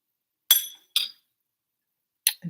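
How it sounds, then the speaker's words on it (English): A spoon clinks against a cup while stirring honey or sweetener into a morning drink: three bright, separate clinks, two close together and a third after a pause, with no talking. "So I'm just going to stir that in."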